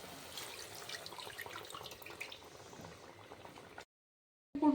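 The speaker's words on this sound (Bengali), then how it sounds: "আমি জল দিয়ে দিচ্ছি।" Water pours into a pan of Rohu fish curry in a steady, faint splashing stream for nearly four seconds, then stops abruptly.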